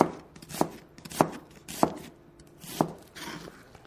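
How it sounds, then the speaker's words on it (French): A knife slices thinly through an onion on a cutting board, giving four or five crisp, evenly spaced chops close up, with quiet pauses between strokes. "Et là, on va couper et particulièrement émincer"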